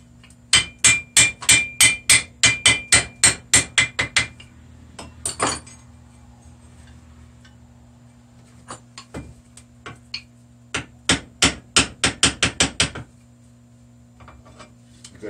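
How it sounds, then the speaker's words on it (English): Steel hammer blows on metal plow parts during plow assembly, ringing in fast rhythmic bursts of about a dozen strikes, a short pause, a few scattered taps, then another rapid run of clanging hits, loud and close. "With the hammer, you want to run that flush."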